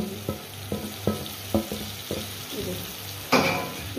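Fried tinda and onions drop into a hot pan and are stirred, giving a run of regular scraping, clattering strokes over a soft sizzle, ending in a louder burst of frying.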